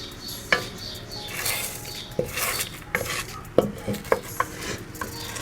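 Eggs being mixed in a bowl for scrambled eggs, with a soft swishing stir broken by irregular sharp clinks of a utensil against the bowl, close and with no voices.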